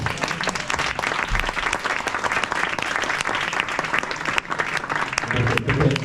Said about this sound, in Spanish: ¿Verdad que les vamos a dar un aplauso a todos estos?